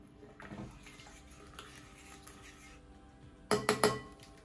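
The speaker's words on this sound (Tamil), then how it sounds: "ஸோ இதை வந்து கலக்கி விட்டுக்கலாம்." A yeast mixture for pizza dough is stirred in a bowl, making faint wet swishes followed by a few louder clinks of the spoon against the bowl near the end, close and without talk.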